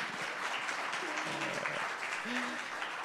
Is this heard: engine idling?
no